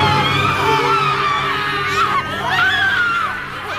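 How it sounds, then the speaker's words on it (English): Distorted screams and broken, overlapping voices rise in pitch through harsh radio static as an audio drama effect at a besieged Afghan outpost in 2008, loud and continuous, with warbling cries sweeping upward near the end. "the radio shrieked with static. Not normal static. This was wrong. Distorted screams, broken voices overlapping,"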